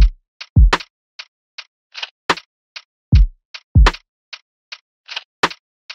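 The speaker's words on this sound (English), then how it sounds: "It's more of like a percussion shaker kind of thing" A bright percussion shaker, used in place of an open hi-hat, sounds on a repeating pattern over crisp ticking hats and deep thumping kicks in a lofi beat made in FL Studio.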